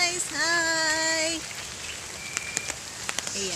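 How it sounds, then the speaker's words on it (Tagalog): Steady rain falls on surfaces outdoors, a continuous hiss with scattered close drips and taps, under a voice talking at the start and end. "umuulan pa rin sa amin pang ilang araw na ba ito?"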